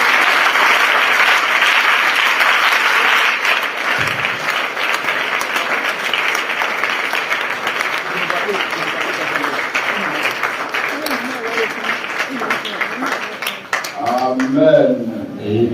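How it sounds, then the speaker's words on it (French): A church congregation at a Sunday French-language worship service applauds loudly and continuously, dense clapping filling the room, with voices rising through it and a speaker talking over the end. "Par nos acclamations Seigneur."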